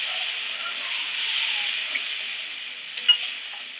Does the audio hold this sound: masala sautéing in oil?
yes